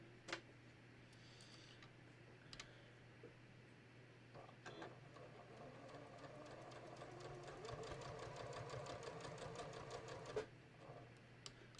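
A home sewing machine stitches down knit shirt fabric beside a binding in a quiet, ticking run that grows slightly busier toward the end, with a few sharp clicks and no talking.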